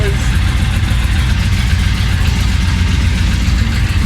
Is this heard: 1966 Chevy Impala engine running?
yes